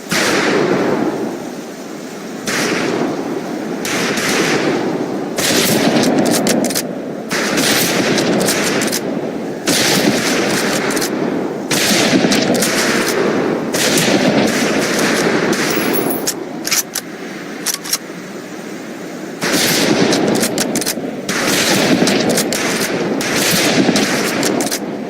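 Rapid, dense rifle gunfire at a firing range in Medal of Honor Pacific Assault, loud and continuous bursts of shots cracking across the whole stretch with only brief pauses.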